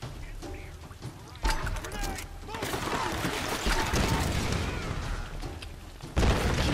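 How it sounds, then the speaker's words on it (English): Booming grenade launcher blasts and rattling gunfire in the action game Tomb Raider, loud and chaotic over several seconds, with a player talking over the combat. "blowing him the fuck up with a grenade launcher"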